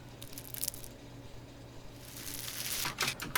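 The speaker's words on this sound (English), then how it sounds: "these Foley hits that I think are from a loop that have been kind of chopped up" Dry, harshly EQ'd Foley hit samples chopped from a loop: a scattered run of crisp, crunchy tearing and squishing hits, fairly close, with a denser cluster of bright crackles toward the end.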